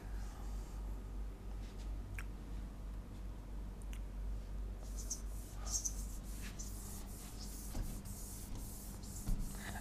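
Sentences are written on a board during a simple present tense lesson, giving faint scratchy strokes over a steady low hum, with no one speaking, a few brief marker taps, and a denser stretch of writing toward the end.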